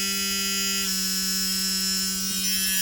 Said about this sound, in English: That's the low air alarm.